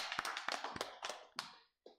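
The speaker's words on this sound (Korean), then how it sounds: "하나님께 영광의 박수 돌려드리겠습니다." A congregation at a Full Gospel church Sunday worship service breaks into applause, a few sharp, close claps in quick succession that thin out and fade, ending with one last isolated clap.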